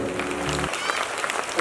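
Dense applause from a school assembly at an Independence Day flag hoisting, many hands clapping continuously at close range while a droning tone underneath cuts off partway through.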